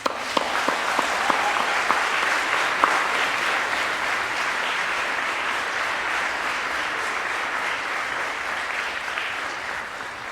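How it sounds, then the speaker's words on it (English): Sustained audience applause fills a university graduation ceremony hall, steady dense clapping from a large crowd lasting about ten seconds, with a few sharper individual claps standing out near the start. "please give your families and friends who are present today a round of applause."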